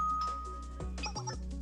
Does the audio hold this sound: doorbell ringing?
yes